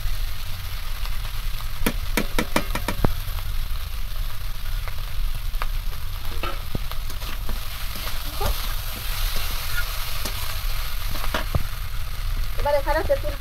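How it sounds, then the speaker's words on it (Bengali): Lakshmi prawns and radish fry in a pan with a steady, moderate sizzle, broken by scattered clicks and scrapes of stirring. "এবার এর মধ্যে ভেজে রাখা লক্ষ্মী চিংড়িগুলো সব দিয়ে দেবো।"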